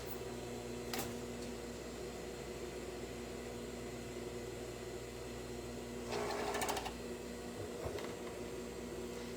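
A home sewing machine stitches fabric in a quiet room, a faint steady mechanical whir with a couple of brief louder bursts.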